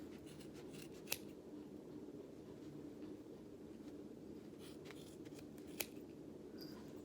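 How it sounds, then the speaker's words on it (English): Scissors snip through the center of a yarn pom-pom with quiet, close cutting and rustling, plus two sharper clicks of the blades. "Cut along the center."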